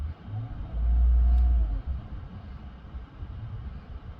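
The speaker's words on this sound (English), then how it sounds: "Okay, so let's go ahead and we'll start revving it up." A Chevrolet Silverado 5.3L V8 revved during coolant temperature sensor replacement, a single low rumbling rise in engine speed held for about a second before dropping back to a quiet idle.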